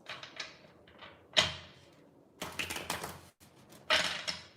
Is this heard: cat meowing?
no